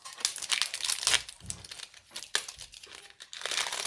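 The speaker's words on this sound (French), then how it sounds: "Je suis désolée pour le bruit du plastique." Plastic packaging around lace crinkles and crackles up close as it is handled and unwrapped, a busy run of soft rustles and sharp crunches with no talking.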